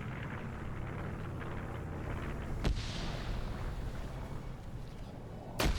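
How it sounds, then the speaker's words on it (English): Airstrike explosions in a WW2 D-Day combat video game roll out as a continuous low, rumbling barrage, with two sharper blasts cutting through about three seconds apart. "Another airstrike comes down, that double taps Bay."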